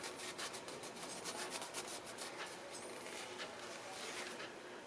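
Steady close rubbing on a PlayStation Portable joystick, cleaning carbon particles off its contacts, a continuous dry scrubbing with quick repeated strokes and no talking.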